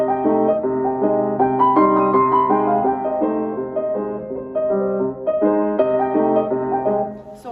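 Solo piano plays the B section of Florence Price's Down a Southern Lane, a steady melody over chordal accompaniment with clear note attacks throughout, close and moderately loud, with no talking.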